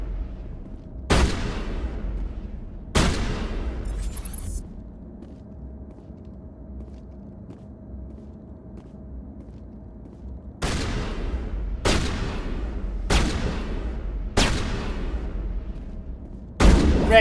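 Shotgun blasts in Mass Effect boom out one at a time, two early shots, a long pause over a low hum, then a rapid series of five heavy reports, loud and close.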